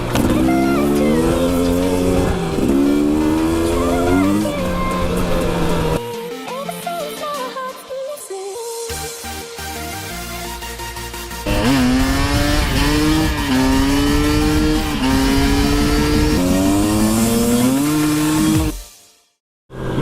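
A KTM 250 EXC TPI two-stroke enduro motorcycle engine revving hard, its pitch repeatedly rising and falling through gear changes, loud and close, with a quieter lull midway before it cuts off at the end.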